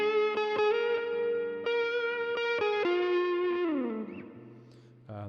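Sustained electric guitar chords through an AionFX Stratus overdrive pedal, a TS808 clone, with a gritty edge, several strummed hits ringing out, then a chord slides down and fades before a final stab.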